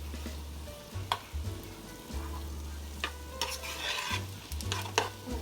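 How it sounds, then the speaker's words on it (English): Keto cauliflower fried rice, Asian-inspired, is stirred around a hot pan: repeated scraping and tossing strokes over a low, continuous sizzle, with a steady hum beneath. "So you keep stirring it around so it doesn't burn."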